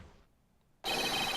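A cell phone rings in the Phoenix Wright: Ace Attorney courtroom video game, a bright electronic ringtone that starts abruptly after a short quiet gap and carries on loudly.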